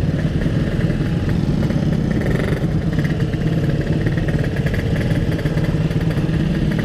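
A Yamaha RX King motorcycle engine runs nearby at a steady, rough mid-pitched drone with a rattly two-stroke clatter, continuous and loud for the whole stretch without talk.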